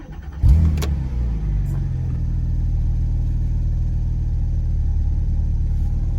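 A 2010 Porsche 911 Turbo (997.2) with its original engine cranks and fires up with a sharp burst, then settles into a steady, deep idle rumble close by.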